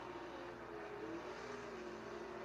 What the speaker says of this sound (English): I love the sound of this car's engine.